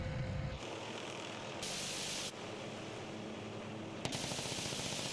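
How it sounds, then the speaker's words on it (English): Rapid, continuous rattling minigun fire in bursts from a Shrike 530F helicopter in Microsoft Flight Simulator, hissing like dense noise, with a steady engine drone beneath; fairly quiet and mechanical. "the worst part of this helicopter is the sound of the miniguns"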